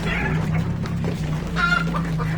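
A rooster clucks amid the steady din of a Saudi bird market, its calls rising over a constant low crowd and animal hum that runs the whole length.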